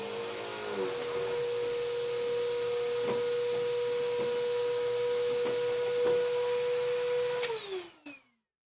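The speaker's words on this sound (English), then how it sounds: "I have to vacuum the dryer!" A vacuum cleaner sucking lint out of a clothes dryer, a loud steady whine with a strong constant pitch and occasional knocks and bumps, then the motor winds down and stops at the end.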